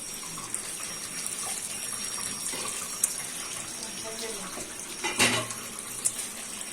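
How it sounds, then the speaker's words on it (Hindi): A tap runs steadily while raw chicken is washed in a Pakistani family kitchen during breakfast preparation, with a continuous hiss of water broken by brief splashes and a clink near the end. "वालदा साहिबा सारा चिकन धो के इस तरह से इधर रखती जा रही है।"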